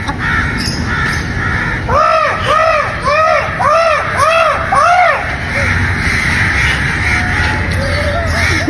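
A voice imitates crow caws, about eight harsh arched calls in a quick rhythmic series, loud and close, then background noise continues.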